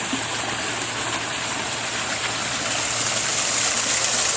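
Steady rushing water from a waterfall fills the scene, a loud, unbroken hiss heard up close with no voices.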